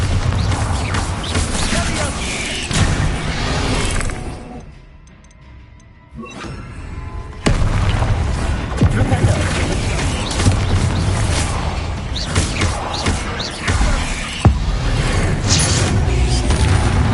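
A Bombarda spell explosion in Hogwarts Legacy: loud crashing, booming impacts and debris clatter in a dense game soundscape, a short lull, then another heavy burst of blasts and rumble.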